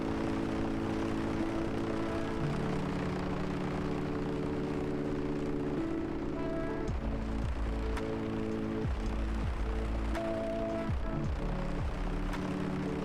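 An A2A Comanche propeller plane in a flight simulator game drones steadily through a landing, its engine hum shifting pitch as power changes, loud and continuous with no talking.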